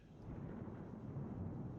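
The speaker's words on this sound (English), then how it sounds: "That's a loud thunderstorm." Thunderstorm in the flight simulator MSFS2024 with an airliner on the ground, a faint low rolling rumble of thunder swelling steadily over a couple of seconds.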